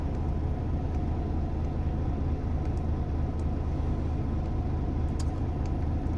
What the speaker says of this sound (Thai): เสียงรอบต่ำมาก ก็ถือว่าโอเคครับผม รอบรอบเครื่องยนต์มาแบบ ต่ำมากนะครับ